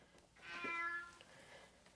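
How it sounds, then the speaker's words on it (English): A cat stuck inside a heating vent lets out a single drawn-out, rising and falling meow-yowl, muffled and fairly faint, with no talking. "The cat was no longer just meowing, it was yowling."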